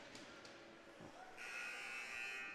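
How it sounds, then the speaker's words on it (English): Arena buzzer at a Cushing Penguins versus Lawrence Academy Spartans boys' prep ice hockey game, a steady electric drone rising partway through and holding to the end, loud over crowd ambience. "and now the buzzer's gone off"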